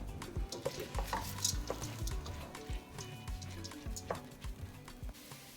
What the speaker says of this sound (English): I'm gonna go in here and mix it up, and then I'll let the rice fry for a little bit with the onions.